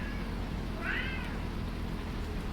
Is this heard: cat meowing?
yes